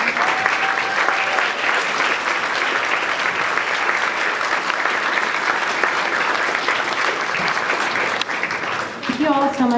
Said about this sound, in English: give another big round of applause to our students